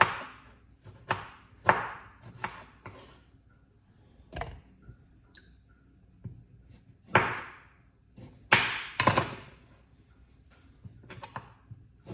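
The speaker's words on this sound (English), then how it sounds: "cut up the lime just like this." A knife cuts up a lime on a board in a series of sharp, irregular chops, close and fairly quiet, with pauses between strokes.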